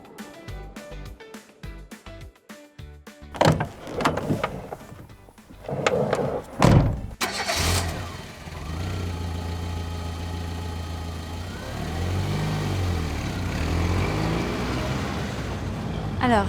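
A car rolls along a country road lined with frosted fields; a few thuds and knocks lead into a steady, close engine drone that holds to the end.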